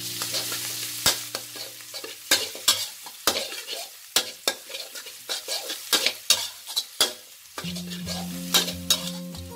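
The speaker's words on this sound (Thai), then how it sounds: "เจียวกระเทียมของเราก่อนเลยค่ะ" Garlic frying in about two tablespoons of hot oil over medium-low heat in a pan, with sizzling punctuated by sharp metallic stirring clicks and scrapes of a utensil, fairly close, no talk.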